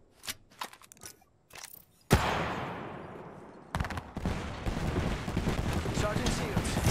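Gunfire in Apex Legends begins as sharp, scattered shots, then a loud blast and sustained rattling bursts follow close by, with crackling noise continuing to the end.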